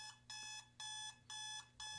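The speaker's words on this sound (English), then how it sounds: "We hear the alarm clock" An alarm clock rings in four evenly spaced, shrill electronic beeping bursts with brief quiet gaps between them, clear and alone.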